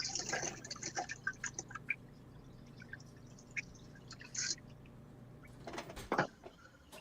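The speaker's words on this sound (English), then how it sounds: "So I'm just going to add a bit more water into the whole thing." Water is poured in with light splashing and dripping in short bursts, quiet and close, with a few clunks and handling noises near the end; no voices.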